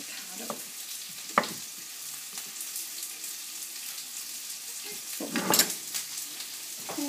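Peppers and onions frying in a pan, a soft steady sizzle with a few brief stirring scrapes and clatters, one louder burst near the end.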